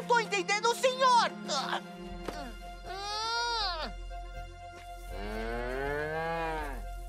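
Cartoon cows moo on a farm in an animated series: long, drawn-out lowing calls, loud and close, following a short burst of other animal or vocal sounds at the start.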